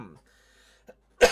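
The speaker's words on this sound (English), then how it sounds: "I'm like coughing into the mic" A streamer coughs close into the microphone, a short harsh burst near the end after a few breathy sounds, loud and close.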